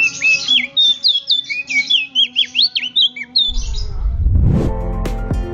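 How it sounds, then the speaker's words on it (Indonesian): Crested white-eye, a small bird endemic to Sumbawa, Satonda and Flores, gives a rapid string of high, squeaky chirps and warbled calls close by, then the calls stop and a broad low rumble and clatter take over near the end. "Opior jambul, burung opior endemik NTT dan NTB"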